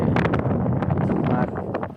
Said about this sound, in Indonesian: ada gangguan debu karena angin yang sangat kencang